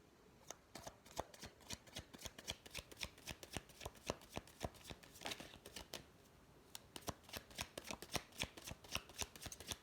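Tarot cards are shuffled in continuous rapid crisp riffles and slaps, close and fairly quiet, with no voices.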